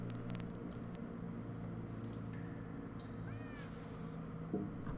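A cat meows in the Minecraft Story Mode video game, a brief rising-falling call near the middle of the clip, faint and distant over a steady droning game soundscape.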